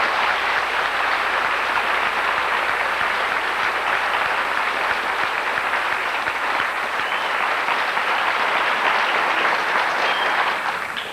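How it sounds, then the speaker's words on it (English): An audience at a school district gathering gives a guest named Dwayne a sustained round of applause, a dense, even wash of many hands clapping that holds steady before easing off at the end. "I would like everyone to give Dwayne a great round of applause"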